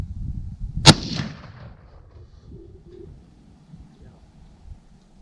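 A single sharp rifle shot cracks loud and close during a hunting safari in South Africa, followed by a short rolling echo that fades into quiet outdoor ambience with faint murmuring afterward.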